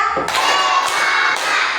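A school class claps together in a classroom, with three strong, evenly spaced bursts of clapping in a quick counting rhythm and voices ringing under each beat.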